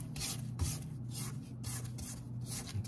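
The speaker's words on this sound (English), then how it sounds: "Now what I want to do is scrape down the sides." A spatula scrapes around the sides of a bowl of creamed butter and sugar for a Biscoff butter cookie pound cake batter, making soft repeated rubbing strokes, close but quiet, with no voices.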